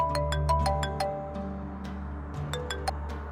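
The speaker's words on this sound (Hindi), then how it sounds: "माहीन का फोन।" A mobile phone ringtone chimes in a rapid run of bright, bell-like notes, pauses, then repeats a shorter burst, clear and close over a low background hum.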